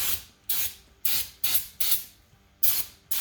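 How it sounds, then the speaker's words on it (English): Brake part cleaner sprayed from an aerosol can onto a car's brake caliper, six or seven short, loud hissing bursts in quick succession with brief gaps between them. "Like I said, spray some brake part cleaner on there."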